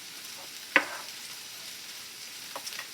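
Rice frying in a pan as leftovers are reheated, giving a steady faint hiss with one sharp crackle near the start and a few small pops toward the end.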